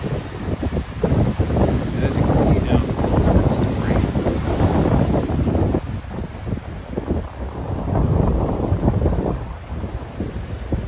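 Steady wind blowing by a lake shore among sea caves, a loud, continuous buffeting rush across the microphone with rolling gusts and low rumble, no talking heard.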